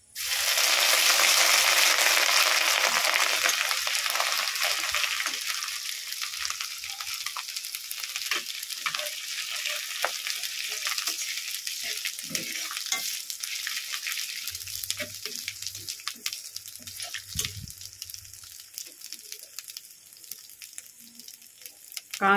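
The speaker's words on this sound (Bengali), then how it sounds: "একটু ভেজে নেব নেড়ে চেড়ে, যতক্ষণ না সেন্ট উঠতেছে একটু নেড়ে নেব।" Grated ginger frying in hot oil for cauliflower rezala, starting with a loud hissing sizzle that settles into a quieter crackle, with scattered clinks and scrapes of a spoon stirring the pan up close.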